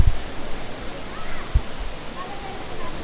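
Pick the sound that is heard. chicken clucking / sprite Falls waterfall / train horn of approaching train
sprite Falls waterfall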